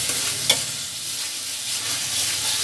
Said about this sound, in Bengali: তেলের সাথে ভেজে নিতেছি